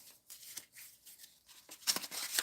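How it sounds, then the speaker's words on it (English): Playing cards shuffled for a tabletop APBA baseball game, with soft riffling bursts at the start and then louder, crisp flurries of card noise near the end, close by and with no one speaking. "So we do our card management shuffle here."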